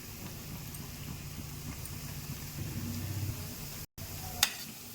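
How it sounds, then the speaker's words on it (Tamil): Slices of bread deep frying in hot oil over moderate heat give a soft, steady sizzle and bubbling, fairly quiet and close, with a brief clatter near the end. "இதை நல்லா பொறிச்சு எடுத்துக்கலாம் மிதமான சூட்டில் பொறிச்சு எடுத்துக்கோங்க"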